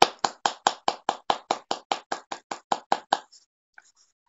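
Crisp hand claps at a church Tuesday gathering held from home: about fourteen evenly spaced claps in a quick steady rhythm, close and clear, then silence.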